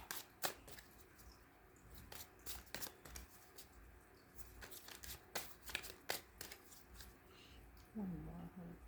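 Quiet, soft shuffling of tarot cards, with a steady run of light papery clicks and slaps spread across several seconds, close by but faint.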